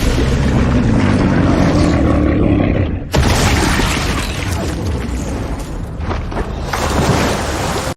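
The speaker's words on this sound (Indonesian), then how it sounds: "Granat itu sudah berada di dalam genggaman tangan Jul dan segera dia lemparkan ke dalam perut monster cacing itu." A grenade explodes inside a giant worm monster in the film Love and Monsters, a massive booming roar that rumbles continuously, cuts off sharply, then surges back with heavy low rumbling and crashing debris.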